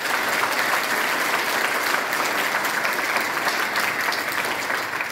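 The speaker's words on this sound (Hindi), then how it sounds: "तालियों से गूंज उठी।" An audience at a gathering for persons with disabilities applauds a child's speech, producing a dense, sustained wall of clapping, loud and even throughout, with no speech on top.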